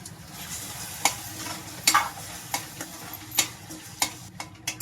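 Ground masala roasting in oil in a pan for a spicy vegetable bhaji, with a low sizzle broken by sharp spoon knocks and scrapes against the pan at irregular intervals, close up, with no talk.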